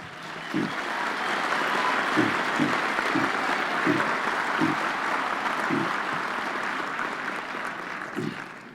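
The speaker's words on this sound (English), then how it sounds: "I really want us to give them a deserved round of applause" Audience applause at a university mid-year graduation ceremony, a long, even, moderately distant wash of many hands clapping, with a few low thumps standing out at intervals.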